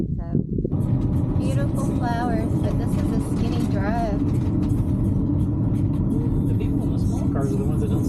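A Sprinter van rolls along a narrow, overgrown road near the Grand Canyon, its engine and tire noise forming a steady close rumble beneath people talking in the cabin.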